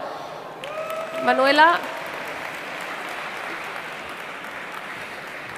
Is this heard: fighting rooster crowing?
no